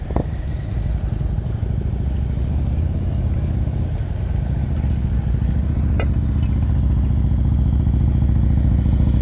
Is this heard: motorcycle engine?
yes